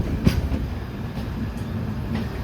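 Two express trains, the Uttarbanga Express and the Purbanchal Express, run through Dum Dum Junction railway station at equal speed, giving a steady low rumble of rolling stock with a sharp knock near the start.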